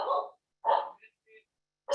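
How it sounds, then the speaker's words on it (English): A dog barks indoors in a few short, sharp bursts separated by pauses, the first two loud and close, then a softer yip before another bark at the end. "Sorry about the barking."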